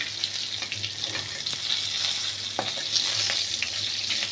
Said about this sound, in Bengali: দিয়ে এটাকে নাড়বো ফোরনটা ফোরন ভাজার গন্ধটা একটু বেরোবে